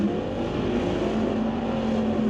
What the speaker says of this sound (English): Deborah Dalton brings up the Chevy Impala, labeled Mabel. James Dobson in hot pursuit